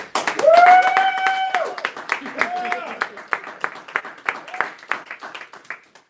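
Clapping breaks out as a presenter is introduced at a banking seminar. A voice calls out over the opening claps, and the applause then thins into sparse, scattered claps that taper away.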